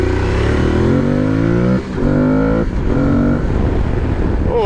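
Aprilia Tuareg 660 adventure motorcycle, sharing the RS660's 660 cc parallel-twin, heard up close as a loud throaty engine revving and rising in pitch, dipping briefly, then revving again in a steady mechanical drone with no speech.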